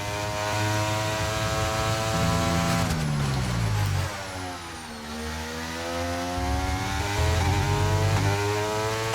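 A Formula 1 racing car engine in the F1 23 video game screams through a corner, dropping in pitch on downshifts and then revving back up through the gears, loud and continuous, with no talk over it.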